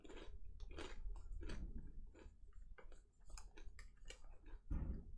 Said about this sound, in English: Can you guys hear me munching?